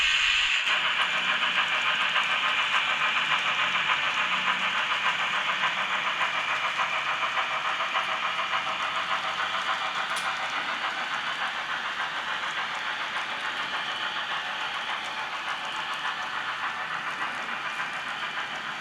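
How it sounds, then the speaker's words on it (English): A model railroad Union Pacific UP-844 steam locomotive leads an eastbound excursion train on a layout, giving a steady, fairly loud rumbling, chuffing and rail clatter that runs continuously and fades slightly near the end, with no talk. "Here comes UP-844 heading up that eastbound excursion train right on schedule."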